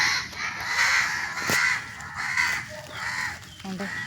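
Crows caw repeatedly outdoors, the harsh calls recurring over a noisy background, with people talking nearby.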